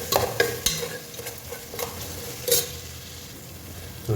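Onions and yogurt for mutton biryani fry in a pan as a spoon stirs them, with a steady sizzle under a few sharp scraping clacks of spoon against metal, close by.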